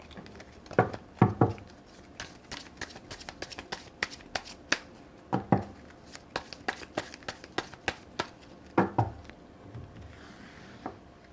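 Tarot cards are shuffled and drawn, with crisp papery riffles and sharp slaps coming in irregular bursts, some louder card snaps standing out, close and clear with no talking.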